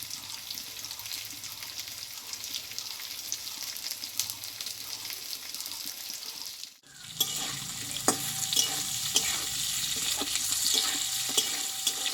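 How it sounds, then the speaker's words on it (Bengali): Pointed gourd fries in hot oil with a steady close sizzle, punctuated by scraping stirs after a brief dip midway. "পটলটা কিন্তু ভালোভাবে আমি কষিয়ে নিয়েছি এবার তেল থেকে তুলে নেবো"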